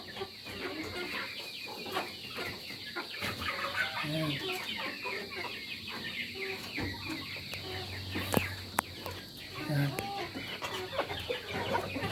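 A hen clucks repeatedly in short, soft bursts, with other chickens and farmyard birds chattering in the background.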